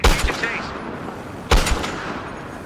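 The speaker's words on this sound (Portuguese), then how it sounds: "Acertei um tiro" Two sharp, booming shots from a Barrett M82 sniper rifle in the video game Battlefield Hardline, the first at the start and the second about a second and a half later, each trailing off into a rumbling echo under brief talk.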